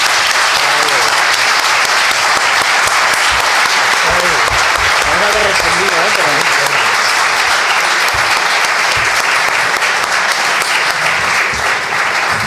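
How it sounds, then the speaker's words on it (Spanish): Loud, sustained applause from an audience closing a talk on the history of the political left and right in Spain, dense clapping that stays steady throughout with a few voices mixed in. "un aplauso a ellos"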